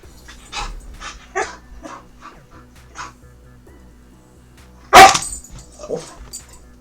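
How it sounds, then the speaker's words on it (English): A pet dog barks sharply and loudly once, with softer panting, whimpers and small yips before and after it, indoors at close range. "My dog is going crazy, so I need to pay attention to him."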